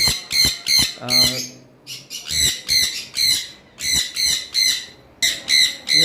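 Opaline budgerigars at a bird farm give rapid, harsh squawks close up, in repeated short bursts with brief gaps between them.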